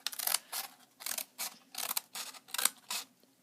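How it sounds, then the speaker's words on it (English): Scissors snip through folded paper along its creases, about eight crisp, close cutting strokes in a quick, fairly even rhythm, each a short papery crunch with brief quiet gaps between. "you just want to make sure that you cut along the creases."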